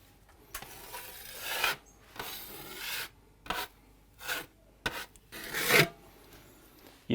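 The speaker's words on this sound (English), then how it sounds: "we're just going to apply that over and start smoothing it out" A trowel scrapes base coat plaster across a patched hole in a wall in repeated rasping strokes, each a second or so long with short pauses between them, close and clear with no talk.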